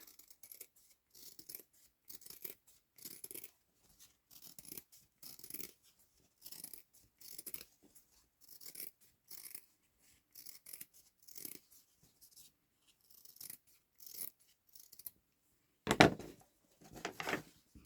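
Scissors cut a circle out of felt in a series of soft, regular snips spaced roughly every second, close and quiet, ending with a slightly louder rustling burst near the end.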